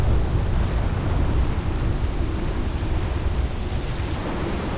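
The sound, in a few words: storm with thunder, rain and wind at sea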